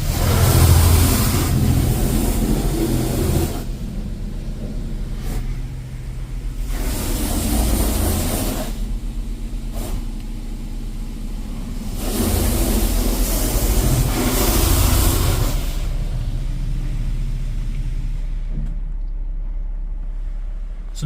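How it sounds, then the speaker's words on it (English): Laser Wash 4000 car wash high-pressure rinse at a Washworld 76 station in Williams, Arizona: loud surging bursts of water spray hitting the car, rising and falling in roughly three-second waves, heard from inside the vehicle. "So we're probably going to be doing another high pressure rinse now, and then probably the spot free"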